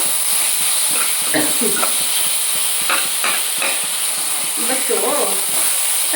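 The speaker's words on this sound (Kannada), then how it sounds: "ಟೊಮೊಟೊ ಅಷ್ಟೇ ಸ್ವಲ್ಪ ಬಾಡಿಸ್ಕೊಳ್ಳೋಣ" Tomatoes sauté in a pan for a leftover chapati dish, giving a steady close sizzle with scattered clinks and stirring scrapes throughout.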